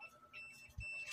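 A multimeter set to continuity, its battery weak, gives thin, faint electronic beeps in short bursts while a wire short is tested during a microwave oven repair, quiet and close.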